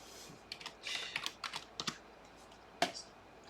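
Fingers tap out a short burst of typing on a computer keyboard, with quick uneven clicks close by and one sharper keystroke near the end, with no talk.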